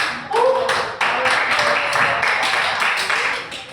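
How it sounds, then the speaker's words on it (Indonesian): Classroom applause for a student during a teaching session, a short burst of many hands clapping together at close range, steady and fairly loud, lasting a few seconds. "Boleh beri aplaus dulu"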